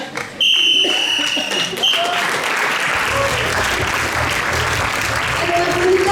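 An audience applauds after a round at an improv theatre match at a festival, giving sustained, lively clapping with a few whistles, close and loud, with brief voices mixed in.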